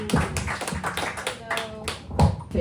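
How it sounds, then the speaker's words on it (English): Comedy club crowd clapping as the next comedian is called to the stage, a few sharp hand claps standing out over a lively room with a voice talking across them. "Clap it up, Alaire."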